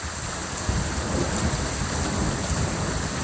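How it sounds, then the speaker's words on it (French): Heavy rain pouring down during a thunderstorm over the Lyon area in the Rhône-Alpes, a dense, continuous roar with a low rumble entering early and persisting underneath, loud and steady throughout. "Énormément de pluie en tout cas."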